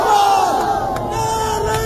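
A large crowd at a 2024 quota reform movement protest in Bangladesh loudly chants slogans in unison, with voices rising and holding in a sustained, forceful cry.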